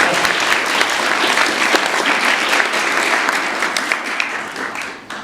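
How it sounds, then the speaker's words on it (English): An audience at a Three Minute Thesis competition in York breaks into steady, loud applause that tapers off at the close. "let's have a round of applause for last year"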